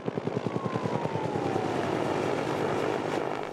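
A firefighting aircraft from Tasmania's bushfire aviation fleet takes off, its engine and propeller thrumming loud and close with a rhythmic beat that builds into a steady, swelling roar.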